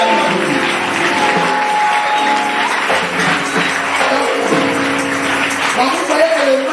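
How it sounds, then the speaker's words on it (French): A church congregation gives loud, sustained applause at a French-language service. The clapping stays steady and dense throughout while a voice speaks over it. "Acclamez pour lui."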